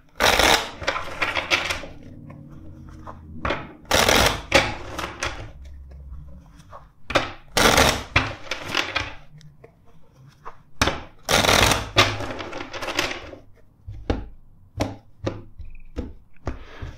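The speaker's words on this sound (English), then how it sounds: "Let's shuffle this other deck four times." A tarot card deck being shuffled close by, in about four separate bursts of crisp riffling and slapping card noise with short quiet gaps between them, and no talking.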